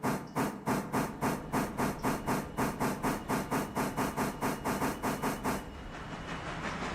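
A steam passenger train runs in the railroad simulation game Railroader, chuffing in a loud, rapid, even rhythm of exhaust beats with a hiss underneath. The beats stop near the end, leaving a softer rumble.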